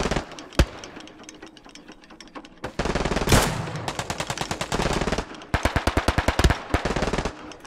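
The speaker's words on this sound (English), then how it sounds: "That was enemy fire behind me." Enemy machine-gun fire in the shooter game Hell Let Loose rattles out in several rapid bursts of sharp, loud shots, some bursts longer and denser, with short pauses between and no talk.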